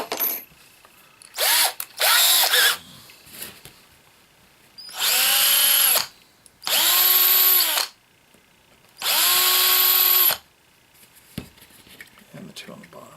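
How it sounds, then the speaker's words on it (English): Power drill with a poor-quality bit drilling into a rear section of a Damnation Alley Landmaster model, several loud whining bursts of a few seconds each, separated by quiet pauses with small handling noises. "Oh, this drill bit sucks."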